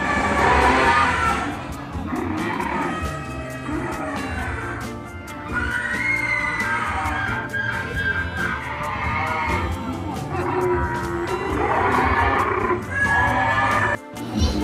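A horse whinnies repeatedly over a steady din of background noise and faint crowd sounds, loud and close throughout.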